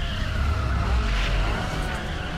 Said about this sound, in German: Das ist ein sehr guter Drift.